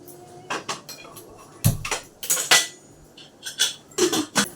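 A metal cooking pot clanks and clinks several times up close as lentils are put on to cook in a home kitchen, irregular sharp knocks with no talking.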